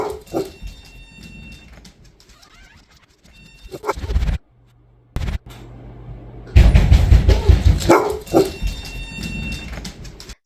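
A golden retriever wearing a bark collar gives a few short barks and whimpers in bursts, separated by quiet gaps and a steady electronic tone from the collar.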